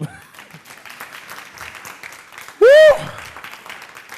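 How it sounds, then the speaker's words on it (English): An audience claps along in steady applause, with a voice talking over it and a loud whoop rising out of the crowd partway through. "Y'all clap."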